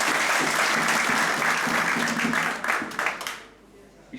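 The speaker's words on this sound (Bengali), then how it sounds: "আসুন আমরা আমাদের এই পূর্ববর্তী প্রজন্ম মুক্তিযোদ্ধা ছিলেন যারা সরাসরি রণাঙ্গনে যুদ্ধ করেছেন তাদের জন্য একটু জোরে করতালি দিই" An audience at a founding-anniversary gathering honouring war veterans claps loudly in a dense, sustained burst that tapers off and stops near the end.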